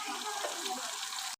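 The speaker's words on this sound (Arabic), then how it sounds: "يلا نخلي المي عليه" Water pours steadily into a pot of chicken seasoned with turmeric for biryani, a continuous soft splashing rush lasting just over a second before cutting off.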